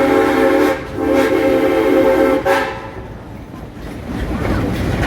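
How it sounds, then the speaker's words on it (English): A train whistle blows loudly in two or three long blasts while the train rolls along a line past the roundhouse. Rumbling wheels continue after the whistle stops. "how about a couple more whistles?"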